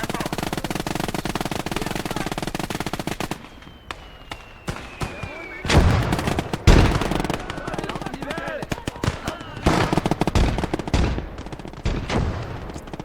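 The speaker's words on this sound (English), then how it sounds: "Now I'm lobbing grenades." Grenade blasts and bursts of gunfire from the World War II strategy game Call to Arms: Gates of Hell, with repeated booms and rapid shooting spread across a busy battle soundscape.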